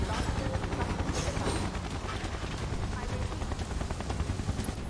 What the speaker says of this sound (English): Clear to engage, that sounds like a helicopter.